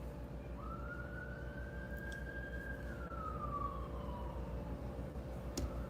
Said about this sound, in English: this siren is connected.